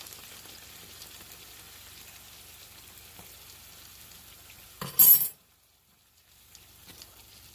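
Aloo pies frying in hot oil, a faint steady sizzle under a short loud clatter of a spoon splashing oil, followed by brief quiet before the sizzle returns.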